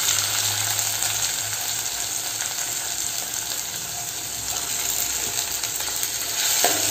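Two small tomatoes fry in a pan with a continuous, even sizzle and hiss that holds steady throughout, with a faint scrape near the end.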